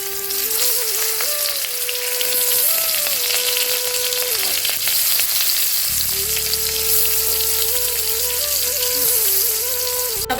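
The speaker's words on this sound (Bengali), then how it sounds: "এখন মাছটা ভেজে নেব।" Tilapia fish pieces rubbed with salt and turmeric fry in hot oil in a home kitchen, giving a loud, continuous sizzle with crackling spatter, alongside a steady tonal hum.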